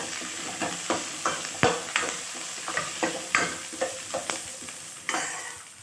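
Onions and garlic fry in oil in a pan for a Telugu greens and sesame-flour curry, a steady sizzle broken by repeated clacks and scrapes of a spoon stirring, close and fairly loud, with no talking.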